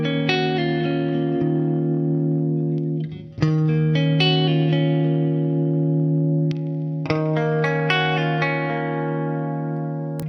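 A clean chord rings out on a Gibson Dave Mustaine signature Flying V through a Mesa Boogie Mark V amp, strummed and left to sustain, then struck again several times in a back-and-forth pattern with a shimmering, effect-tinged tone.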